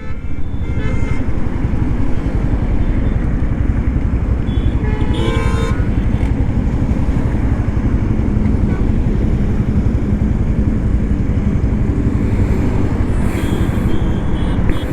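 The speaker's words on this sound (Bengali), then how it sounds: "ভালো লাগলো 90 চালিয়ে বাইকটা।" A Honda CB125 Hornet motorcycle rides at speed with a loud, steady roar of engine and rushing wind throughout, with a few brief higher tones cutting through around the middle and near the end.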